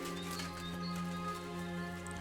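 Horse in a video game, with soft clip-clop hooves and a faint whinny over a steady droning game music bed, with light bird chirps mixed in the background.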